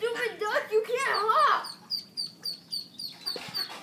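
Ducks quack in a run of short, evenly spaced calls after a voice talks briefly at the start, the calls fairly close and moderately loud.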